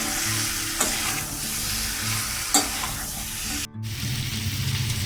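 Chicken cooking with chicken masala in a pan, a continuous sizzle with a few sharp scraping stirs of a utensil and a brief pause before the frying resumes close by.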